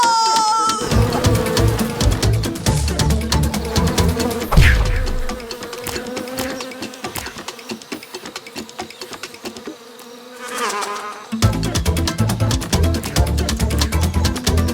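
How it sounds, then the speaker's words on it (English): Rainforest wasps buzzing around frog eggs, loud droning wingbeats rising and falling as they fly close, amid a dense, busy layer of other sounds. "Rainforest wasps. They're trying to eat the frog eggs."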